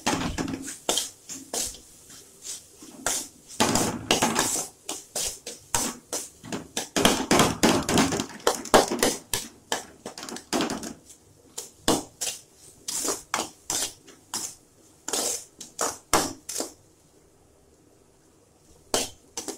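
A spatula clanks and scrapes in a pan as mashed potato filling for aloo paratha is sautéed: irregular metallic taps and clinks up close, in bursts of fast strokes with short pauses between them.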